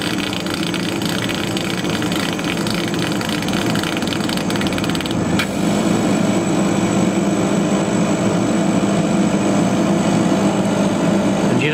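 A laser cutter cuts through 8 mm material with a steady, loud, unbroken mechanical whir and airy fan hiss that runs the whole time without pause.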